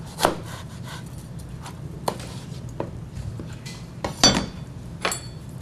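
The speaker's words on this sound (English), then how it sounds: "The first thing that I usually do is cut off the end of the pepper, and then I take out the seeds, and then slice it down." A knife slices a seeded bell pepper into julienne strips. A handful of separate, crisp cuts come at irregular intervals, fairly quiet against a faint background, with no voices.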